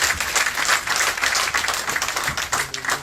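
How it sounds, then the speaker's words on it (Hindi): Applause fills a BJP party workshop at the Jammu headquarters, a dense crowd clapping continuously, loud and close, with no talk over it. "जोरदार तालियां।"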